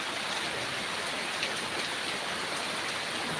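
Steady rain pours down continuously, a dense even hiss with no voices, filling the whole stretch at a constant moderate level.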